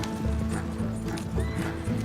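A horse's hooves clip-clop steadily behind riders in the Western video game Red Dead Redemption 2, with snorts and a whinny over a dense, loud game soundscape.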